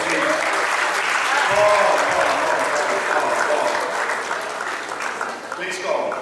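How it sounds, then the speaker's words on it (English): Applause from a graduation ceremony audience for the class of 2025 rolls on steadily for several seconds, fairly loud, with a few words spoken over it. "can we give a round of applause, please?"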